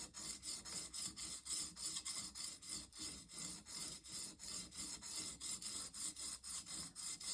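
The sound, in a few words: drawknife's jagged, coarse-ground bevel catching on a sharpening paddle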